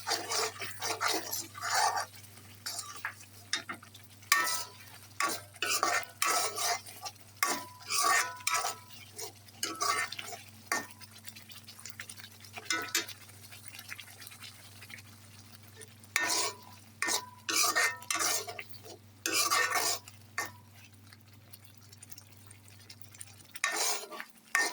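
A spoon stirs and scrapes spice masala with ginger and garlic in a pan for an egg curry, in repeated bursts of clinking and scraping over a steady low hum, with a faint sizzle underneath.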